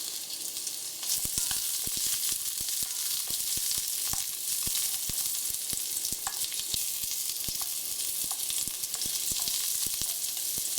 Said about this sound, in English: Make sure you flip them so that each side has an even golden color.